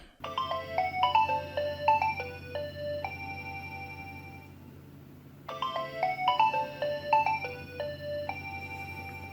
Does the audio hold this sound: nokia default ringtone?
yes